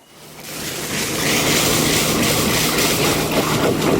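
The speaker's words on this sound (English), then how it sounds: "So that's the engine under load." A sailboat's engine runs under load at sea on an ocean crossing near the equator, a loud, steady mechanical roar and hiss that builds up over the first second and then holds constant, with no talking.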